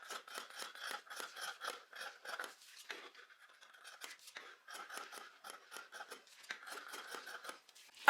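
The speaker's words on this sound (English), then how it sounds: "so I'm going to make a little cut here again" Scissors snip a notch into tencel fabric, rapid close crisp cuts in quick runs of several strokes, separated by a short pause, with no talk.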